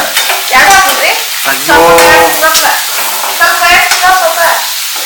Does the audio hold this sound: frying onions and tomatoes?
yes